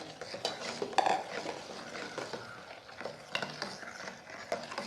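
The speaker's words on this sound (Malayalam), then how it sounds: "ഇതെല്ലാം കൂടെ നന്നായിട്ടൊന്ന് യോജിപ്പിച്ച് കൊടുക്കാം" Tender coconut pudding mixture stirred in a pan, with soft scraping and light clinks of a utensil against the pan repeating through the clip, fairly close and with no voices over it.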